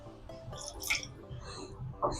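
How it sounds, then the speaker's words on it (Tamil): Water poured into batter for sweet appam, giving a short wet trickle and drip with soft squishy mixing, close and fairly quiet, with no talking. "சாதா தண்ணி விடலாம்."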